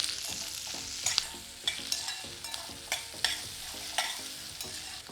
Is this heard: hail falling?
no